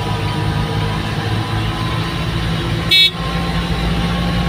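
A single short, loud car horn honk sounds over a steady engine hum from a moving vehicle.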